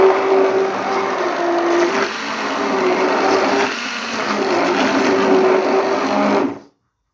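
A blender grinds boiled sweet potato in a steady, loud whir with a slight dip midway, then cuts off abruptly near the end.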